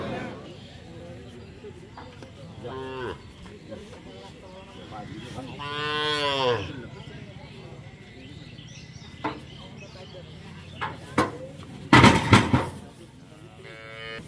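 A cow calls out with a drawn-out moo at a busy Bangladeshi cattle market where cows with calves are sold, the low bellow standing out over people talking, with sharp knocks and bangs later on.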